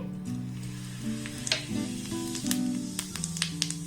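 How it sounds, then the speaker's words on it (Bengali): Whole cumin seeds sizzle in a pan of well-heated oil with a close, crackling spatter and a few sharp pops. A low tonal hum sits underneath, and no one speaks. "তেলটাকে খুব ভালোভাবে গরম করে নিয়েছি এর মধ্যে দিয়ে দেবো গোটা জিরে"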